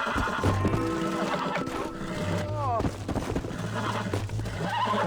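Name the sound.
horse neighing in a video game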